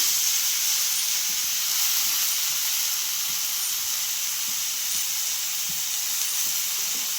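Vegetables stir-fried in a pan give off a soft, even hiss and sizzle with light intermittent stirring taps, steady and fairly quiet throughout with no voices.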